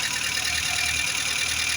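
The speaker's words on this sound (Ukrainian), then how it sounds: "Моторчик працює як часики." A Zhiguli car engine runs steadily after its cylinder head was restored, idling with an even, continuous mechanical hum and close, loud throughout with no voices.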